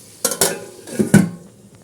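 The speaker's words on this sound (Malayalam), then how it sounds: "റൈസ് നമുക്കിത് ഒരു ഊറ്റണ പാത്രത്തിലേക്ക് ഊറ്റിയെടുക്കാം" Cooked rice is drained into a strainer pot, with several close metallic clanks and knocks of the pots.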